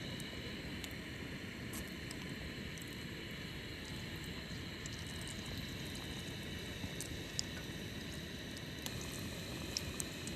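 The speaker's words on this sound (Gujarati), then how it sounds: "મરસાના ભજીયાનો પહેલો ઘાણ તળાય છે" Mirchi bhajiya, chili fritters, sizzle in hot oil outdoors on a camping island, a steady dense bubbling hiss with occasional faint crackles running evenly throughout.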